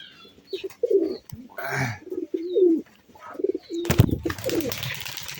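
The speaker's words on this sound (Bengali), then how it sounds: "এই যে সব নর কবুতরগুলো জোড়া ছাড়া, এরা তো প্রতিনিয়ত এইভাবে ডাকতে থাকে" Male pigeons without mates coo repeatedly in a loft, with low throaty calls following one another through the clip and a louder burst of rustling or wing noise near the end.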